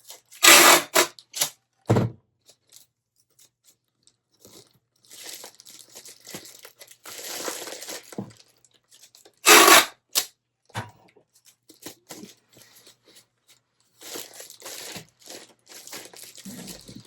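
Sticky packing tape pulled off in sharp crinkling tearing bursts that catch and stop, with quieter rustling and handling between pulls, close by and alone.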